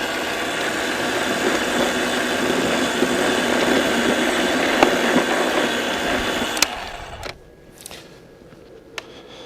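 A Patoolio S20 snow blower clearing snow gives a loud, steady motor whine and whirring roar that cuts off abruptly near the end, followed by a few faint clicks and knocks.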